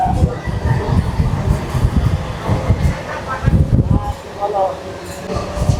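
Steady rumble and rattle of a moving local train carriage leaving Bidhannagar, uncrowded, with people talking over the noise throughout.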